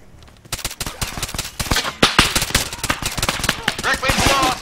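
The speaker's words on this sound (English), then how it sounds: "Why are you shooting at us then?" Rapid bursts of gunfire from the video game Jagged Alliance, dense sharp shots cracking in quick succession close up, with a voice speaking briefly among them.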